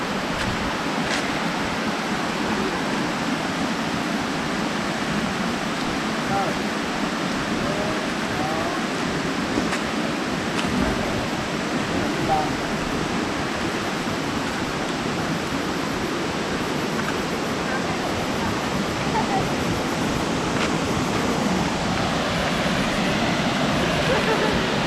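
A 150-foot waterfall in Chiang Mai roars in a constant broad rush of water that stays loud and even throughout, with no break and no clear voices over it.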